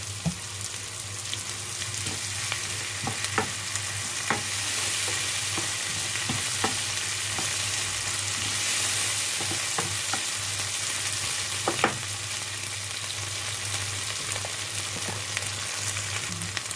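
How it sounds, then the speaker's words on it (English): A tablespoon of crushed garlic fries in a pan for vegetarian spicy pasta, giving a steady loud sizzle with occasional crackles and stirring clicks, and no talking. "I'm going to now add a tablespoon of crushed garlic."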